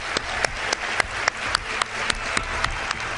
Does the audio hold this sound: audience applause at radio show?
yes